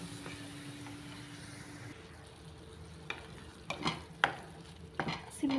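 Mushroom masala curry with onions frying in a pan under a soft, steady sizzle, while a spoon stirs and scrapes against the pan in several sharp, irregular strokes toward the end.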